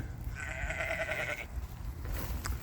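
A sheep perched on a wood chip pile on a grazing farm gives a single wavering bleat, fairly close, over a steady wind and outdoor rumble, followed by faint scuffling.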